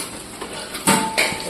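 A utensil clinks twice against a pan as fried onions are lifted out, two sharp metallic knocks over a quiet kitchen background.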